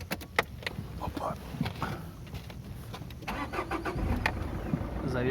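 A 2.0 HDi diesel car engine cranks and starts after reassembly, turning over into a steady idle with clicks and rattles near the start.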